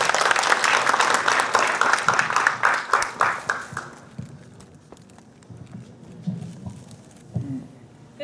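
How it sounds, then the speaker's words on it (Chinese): Applause from an audience at the opening ceremony of a mathematics exhibition at a science and technology museum, loud at first and tapering off after about four seconds, leaving quiet room noise with scattered shuffles. "Bianca Villet 上台致辞，我们掌声欢迎他。"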